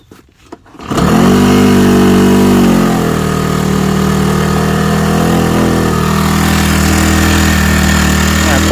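Small engine on a Thai water-pump boat starts after a short rattle and then runs steadily at a loud, close, droning idle with no talk.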